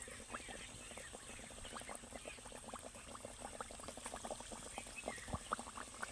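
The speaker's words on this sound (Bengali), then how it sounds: "তেল আমার খুব ভালোভাবে গরম হয়ে গেছে এবার আমি কচুরিগুলো একে একে ভেজে নেবো" Stuffed pea kachori deep-fry in hot oil, a quiet bubbling crackle of many small rapid pops, faint and continuous throughout.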